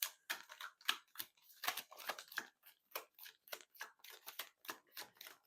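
Tarot cards are shuffled and drawn in a string of quick, crisp, close riffling snaps and slides, with brief gaps between the bursts and no speech.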